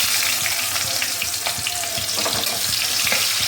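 Onions hiss and sizzle in hot oil with bay leaf and cloves, a bright continuous frying crackle with a few soft scraping clicks, close by and with no voices.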